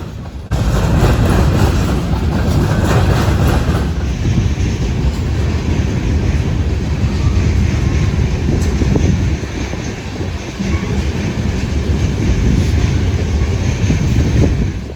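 A CN sand train with a rear DPU rolls steadily over a railroad diamond on the Iron Range subdivision, a loud continuous rumble of wheels and cars with wind buffeting the microphone throughout.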